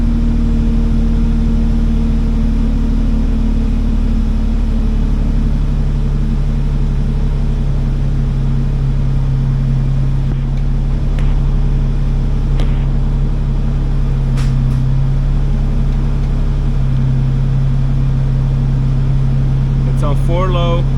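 A Nissan Xterra engine idles loud and close with a steady drone and hum while the transfer case is shifted, a few faint clicks and knocks breaking through near the end.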